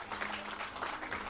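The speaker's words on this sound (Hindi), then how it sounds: "तालियों की जोरदार गड़गड़ाहट के साथ" Audience applause at the Panchkula conclave, a steady dense clapping from the assembled crowd that continues throughout at moderate, even loudness with no talk over it.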